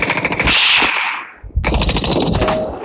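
Rapid automatic gunfire in the mobile shooter game Standoff 2, two loud bursts of close shots split by a brief pause, with no talk over them.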